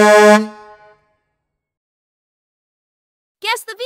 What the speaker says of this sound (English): A truck horn honks.